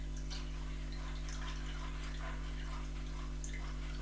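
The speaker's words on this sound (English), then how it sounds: "So you have to run it through your strainer like this and get rid of the fiber." Beetroot and ginger juice drips and trickles through a kitchen strainer, a faint, uneven patter of small drops over a steady low hum.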